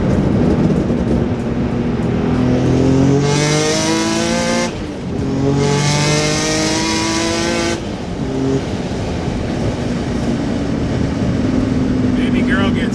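A 700hp Infiniti G35 with an exhaust leak on the driver's side revs hard while driving, its engine note climbing through gears in loud sustained pulls. Brief dips between the pulls mark shifts, and a constant roar fills the background.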